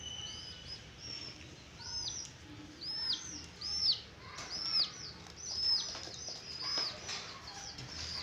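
Two pet pigeons kept in a cage at home call repeatedly, with rising chirps and soft cooing over a faint steady background. The calls come in uneven bursts at moderate distance.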